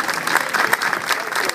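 Brief burst of clapping and cheering from an audience at a music and poetry cultural event, close and lively, with a voice shouting over the claps.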